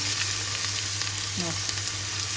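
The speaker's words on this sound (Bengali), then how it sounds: "পেঁয়াজটা একটু লাল করে ভাজি" Onions frying in a pan with soybeans, vegetables and ginger paste, a steady close sizzle that runs without a break, with faint stirring over it and no talk.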